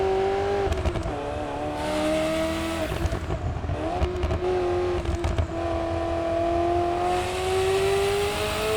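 Classic supercar engine at full throttle in Assetto Corsa EVO, a loud steady high-pitched wail with clear harmonics that dips slightly and then climbs again, with brief gearshift and tire noises breaking in.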